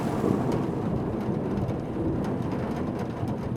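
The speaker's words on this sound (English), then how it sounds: "Thunder strikes." Thunder rumbles through a heavy rainstorm beating down on grass, vines and manor windows, a dense, steady roar that stays loud for several seconds without any clear individual crack.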